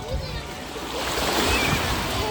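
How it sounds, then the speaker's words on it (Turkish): Ocean waves rolling onto a beach in the wind, a broad washing surge that swells and holds loud, with some wind rumble on the microphone. "Büyüdü değil mi dalgalar?"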